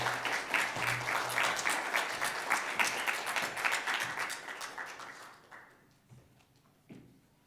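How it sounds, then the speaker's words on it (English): Warm applause from a conference audience for the event organizers, dense clapping for several seconds that thins and fades out, leaving scattered claps and room noise. "I want a special thank and a big round of applause for the organization, Gary, Michael, Witold, and Robert"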